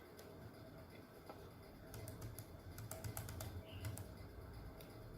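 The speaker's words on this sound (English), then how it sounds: "press Y from the keyboard." Faint, quiet clicking of keys on a computer keyboard, sparse taps over a steady background hiss with no talking.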